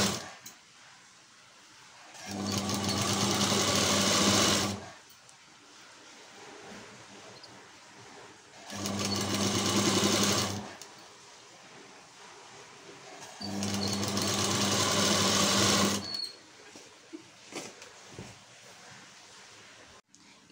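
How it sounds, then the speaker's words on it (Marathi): Sewing machine stitching a kurti, three loud sustained bursts of rapid humming stitching separated by quiet pauses with faint handling of fabric. "इथं आपण टीप टाकून घेऊयात."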